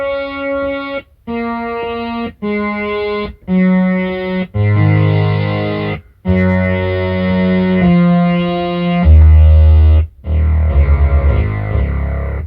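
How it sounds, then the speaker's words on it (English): A Kawai K4 synthesizer plays a series of held notes, each swelling brighter and buzzier as the filter opens under harder key aftertouch, with short gaps between phrases. "if I push it harder, the filter should come on more. And you can hear it."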